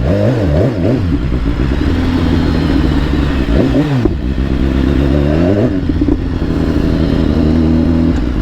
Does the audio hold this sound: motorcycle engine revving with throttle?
yes